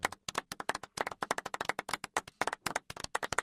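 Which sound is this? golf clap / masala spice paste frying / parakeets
golf clap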